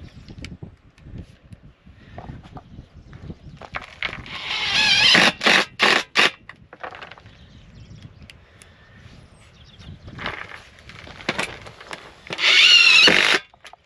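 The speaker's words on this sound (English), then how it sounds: "And then I just use short sheet metal screws to hook this together." Power drill driving short sheet metal screws into barndominium pier forms, several short loud bursts of whirring, with one long final run near the end, separated by quieter handling noise.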